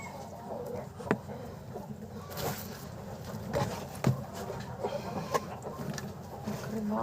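Broody hens cluck quietly in a poultry yard, soft irregular clucks close by, with a few sharper sounds and faint background noise.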